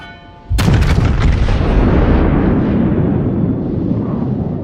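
Battleship Musashi's main guns firing in a naval video game: a sudden massive boom after a short quiet lead-in, followed by a long rolling, rumbling decay, loud and alone.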